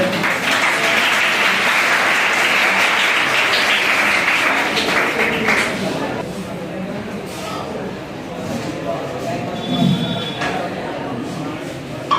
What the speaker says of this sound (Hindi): ताली से सर का स्वागत कीजिए लोग मंच पे